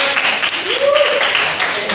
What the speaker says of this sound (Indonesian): Oke, boleh kasih tepuk tangannya dulu.